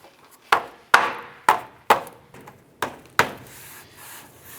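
Plastic clips and inserts pressed by hand into the front bumper cover of a 2004-2012 Chevrolet Colorado, giving six or seven sharp, close snaps and knocks at irregular spacing, followed by a softer rubbing shuffle.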